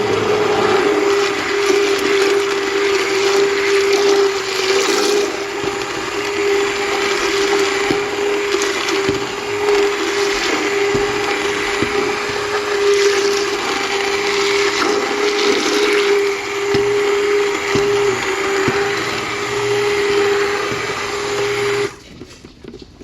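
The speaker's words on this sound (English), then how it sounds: "take my immersion blender and blend this up so it's not quite so chunky" An immersion blender whirs steadily and loudly for about twenty seconds, blending chunky applesauce, its motor hum holding a constant pitch before cutting off abruptly at the end.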